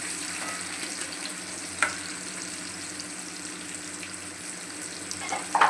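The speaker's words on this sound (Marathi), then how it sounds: "आपल्याला हलका हलका तसा थोडासा हे करून घ्यायचं, एकदम शिजवायचं नाही टमॅटो." Chopped tomatoes fry lightly in a pan with a soft continuous sizzle, broken by a couple of brief spatula scrapes and clinks against the pan, with no voices.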